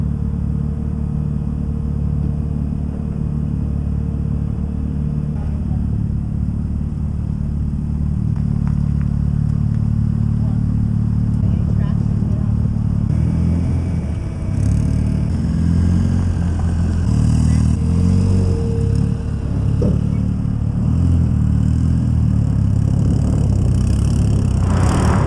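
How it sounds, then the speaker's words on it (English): A race car engine rumbles steadily at a low, idling pace as it drives up into a new trailer, a continuous close mechanical drone holding for the full stretch without any talk. "It just drove straight into the trailer"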